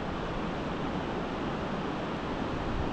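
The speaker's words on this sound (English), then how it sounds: "There's just some insane rapids." Powerful river rapids rush in a steady, dense roar of broadband water noise, loud and unbroken throughout, heard from nearby along a bike trail, with no talking.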